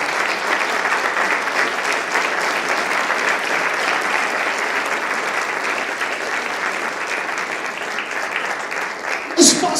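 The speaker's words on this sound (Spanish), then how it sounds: "Yo quiero que le des un fuerte aplauso al Señor." Church congregation applauding during a sermon, a dense, sustained round of clapping from many people that fills the room evenly, ending with a brief thump.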